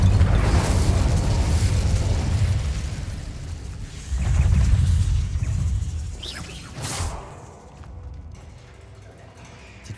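An Incendio fire spell cast in the video game Hogwarts Legacy: a loud, rumbling whoosh of flame with heavy low booms that swell twice, then a brief crackle before fading into quieter ambience.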